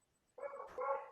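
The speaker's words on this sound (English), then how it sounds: "I have a barking dog, so forgive that" A dog barks once indoors at moderate distance, a short rough bark with a quick follow-up, heard alone after a moment of quiet.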